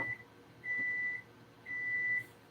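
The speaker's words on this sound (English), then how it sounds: "Oh, there's our timer." Kitchen timer in a home kitchen beeping, three steady electronic tones, each roughly half a second long, separated by brief gaps over quiet room noise.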